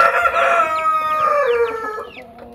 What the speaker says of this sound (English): My light Columbian Brahma chicks